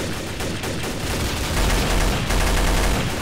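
Sustained gunfire rattles through a bank heist shooter game, a dense, loud, continuous barrage of rapid shots that swells slightly louder partway through.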